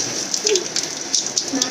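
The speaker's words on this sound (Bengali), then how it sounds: "দেখেন কীরকম বৃষ্টি পড়ছে দেখেন" Rain falls steadily and close, a dense hiss with scattered sharper drop taps pattering on a surface, and no voices.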